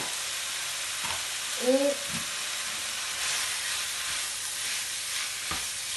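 Meat and vegetables for a homemade bolognese sizzle in a pan while being stirred, giving a steady soft frying hiss with a few clanks of the utensil and a brief voice.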